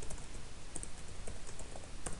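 Rapid typing on a computer keyboard during database work, a close, steady patter of light key clicks with a few sharper taps, no voices.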